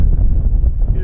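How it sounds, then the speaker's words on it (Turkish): Strong wind in an almond orchard roars into the microphone as a loud, continuous low buffeting rumble that lasts for the whole brief moment. "Şu anda bayağı şiddetli rüzgar var."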